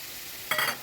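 Drained pigeon pea and moong dal hit a hot pan of cooked-down spices, giving one short, close sizzling burst against a faint background hiss.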